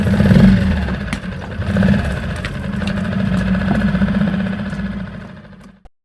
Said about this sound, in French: Mon moteur d'annexe fait des siennes.